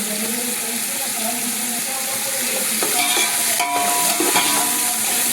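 Vegetables frying for palav in a pan, a steady broadband sizzle with brief clinks of a utensil stirring partway through, close and continuous with no talking.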